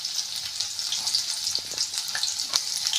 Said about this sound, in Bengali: এগুলোকে আমি সুন্দর করে একটু ব্রাউন কালার করে ভেজে নেব